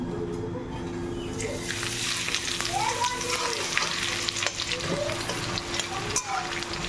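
Onions hit a hot pan and fry with a loud, continuous sizzle and crackle, with scraping from stirring and a steady hum underneath, cooking for a birthday celebration meal.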